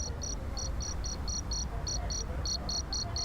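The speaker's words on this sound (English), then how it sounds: "Crickets." Crickets chirp in short, regular bursts over a steady low background hum, fairly faint and continuous throughout.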